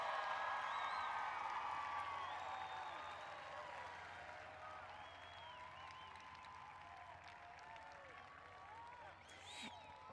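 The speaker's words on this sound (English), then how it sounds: "can we get a round of applause for our class of 2021 graduates?" Graduating class of 2021 receives a round of applause at a Cleveland High School commencement ceremony, a dense crowd clapping loudly that gradually settles into a thinner, continuing patter with some cheers mixed in.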